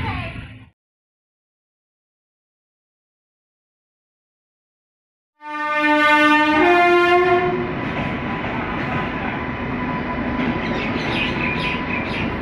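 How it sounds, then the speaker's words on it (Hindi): Mithilanchal Express pulls into Barauni Junction: after a moment of silence a loud train horn sounds, then the steady heavy rumble of the coaches rolling along the track continues to the end. "हमारी ट्रेन बरौनी जंक्शन पर बिफोर टाइम आ चुकी है।"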